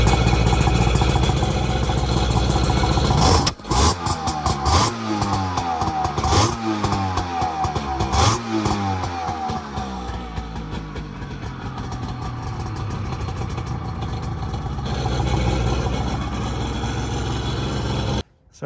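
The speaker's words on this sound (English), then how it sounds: "I was warming it up on the trailer. It was kind of boggy." A Kawasaki ZXI 900 jet ski engine running on its trailer, rough and boggy, loud and close, with sputtering revs early on before settling into a steady uneven drone, then cutting out at the end.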